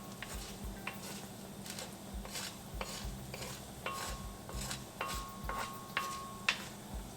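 Cumin seeds and urad dal sautéing in hot oil in a pan for South Indian upma, a soft steady sizzle with scattered light ticks and the scrape of stirring, close and fairly quiet, no talking.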